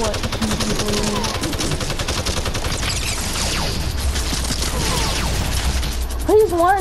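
Rapid video game gunfire rattles in dense, continuous bursts, loud and close, with a voice briefly speaking near the end.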